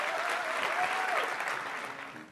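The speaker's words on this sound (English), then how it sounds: "Give them both a huge round of applause." Audience applause at a Washington, DC tourism marketing meeting as the mayor and another guest are welcomed to the stage, a steady dense burst of clapping that holds for about two seconds and then starts to fade.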